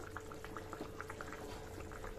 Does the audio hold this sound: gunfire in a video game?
no